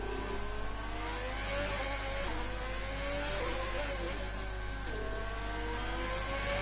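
Race cars on slick tyres head out onto the Singapore circuit for a WRA round, engines droning steadily with rising and falling pitch sweeps as cars pass, a continuous loud engine bed throughout.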